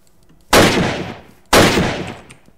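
Two loud single gunshots from a gun in Minecraft's Crafting Dead, spaced about a second apart, each a sharp crack with a long decaying tail.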